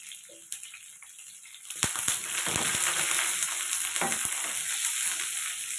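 Sliced onions and green chillies dropped into hot oil in a pan, quiet at first, then a loud close sizzle that swells and holds steady, with a few clicks of stirring.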